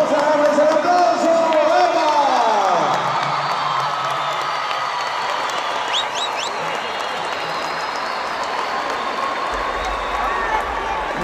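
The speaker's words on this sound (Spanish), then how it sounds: "¡Vamos a darles el aplauso!" A concert audience in Cajamarca claps and cheers for a band, a loud opening burst of whoops and shouts that settles into sustained, dense applause with scattered whistles.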